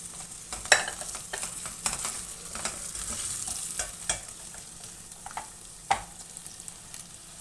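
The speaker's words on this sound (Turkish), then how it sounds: "Kemik suyumu da koyuyorum" Bone broth poured into a pot of sizzling winter soup vegetables makes a hissing, bubbling wash, with a few sharp clinks and stirring knocks scattered through it.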